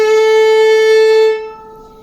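A single sustained violin note bowed with heavy pressure, muted yet rich in overtones, held for about a second before stopping abruptly with little ring afterward.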